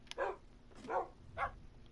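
Dogs barking in the Minecraft video game on PS4: three short, fairly quiet barks at an even pace, with no voices over them.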